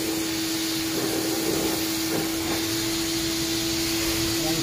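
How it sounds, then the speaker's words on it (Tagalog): Acid rain remover is sprayed onto a car's paint, making a continuous, steady hiss that runs unbroken and fairly loud from start to finish with no voices over it. "ang tamang pag-spray guys"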